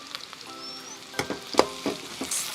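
Garlic, ginger and green chilli fry in a pan with a soft, steady sizzle, broken by a few sharper crackles and pops that come and go over a couple of seconds.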